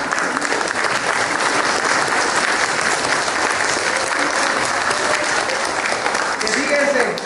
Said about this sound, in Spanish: vamos a darle un fuerte aplauso a nuestra madre